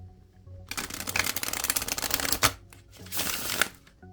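Tarot cards are bridge-shuffled at close range, a fast riffling flutter lasting about two seconds that ends with a sharp snap, followed by a shorter riffle and a soft tap, all without talking.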